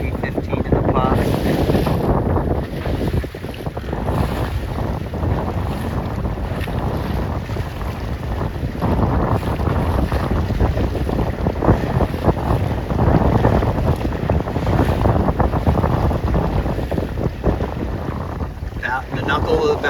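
A C420 sailboat races in strong wind gusting to about 15 knots at a regatta, with heavy steady wind rush across the microphone and water washing against the hull, loud and continuous.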